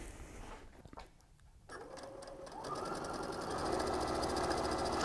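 A sewing machine stitches a quarter-inch seam around quilt squares, its motor whirring up after a short pause into a steady, fast, rattling run that grows louder toward the end.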